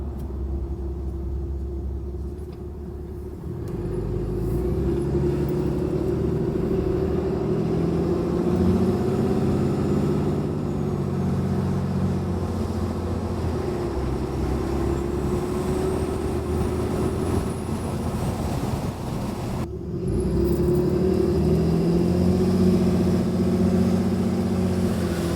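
A 2022 Ram 2500 with a 6.7 Cummins diesel engine and an S&B cold air intake drones with a steady, loud low rumble, easing briefly before surging back strong near the end.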